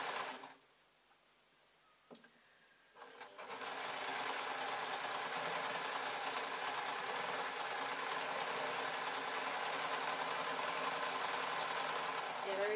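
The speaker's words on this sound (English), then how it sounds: "I'm actually going to whiz over it with the sewing machine" After a few quiet seconds with brief handling noises, a sewing machine starts up and stitches over a tartan skirt, running continuously with a steady, whirring mechanical drone.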